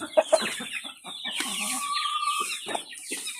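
Backyard chickens cluck close by in a rapid, irregular series of short clucks, with one drawn-out, higher call in the middle.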